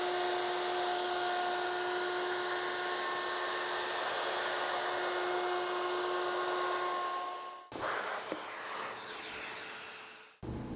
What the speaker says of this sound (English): we'll make that final pass